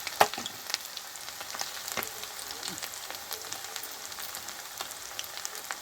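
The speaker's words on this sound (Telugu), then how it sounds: "అవి కొంచెం వేగినాక తిప్పాలి" Chicken pakoda pieces coated in cornflour fry in hot oil, a steady fine crackling sizzle with scattered pops, moderately close and alone without talk.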